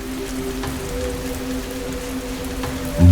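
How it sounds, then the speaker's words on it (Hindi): Heavy rain falls in a steady, dense hiss with a low hum running beneath it, and a sudden thump comes at the very end. "बड़ी तेज बारिश है"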